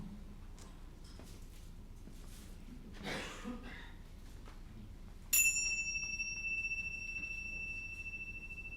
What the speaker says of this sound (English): And now let us center our hearts and minds with the ringing of the chimes.